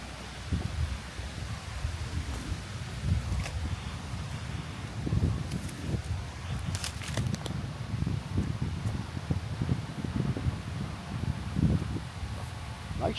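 Wind gusts through trees in a backyard the day after an intense summer storm in Cleveland, a steady broadband rustle of leaves with occasional buffeting on the microphone and no talk.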